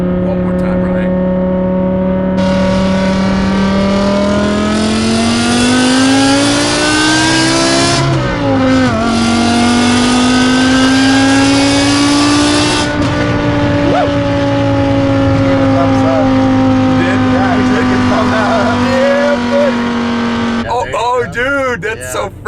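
A 2008 BMW E60 M5 with a manual gearbox and V10 engine accelerates hard and loud, its rising engine note climbing through gear changes for most of the stretch before easing off near the end.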